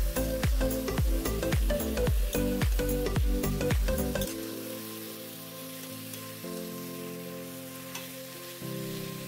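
Mutton pieces fry with onions in a pan, close and clear. About four seconds of quick, rhythmic scraping stirs give way to a steady, crackling sizzle with no talking.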